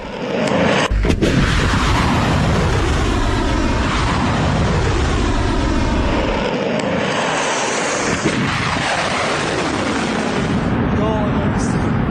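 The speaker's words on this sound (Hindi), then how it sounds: "ईरान अब भी बैलिस्टिक मिसाइलें दाग रहा है" Ballistic missiles launch in Iranian news footage, producing a loud, sustained rushing roar with deep rumble that fills the whole stretch after a sharp initial blast.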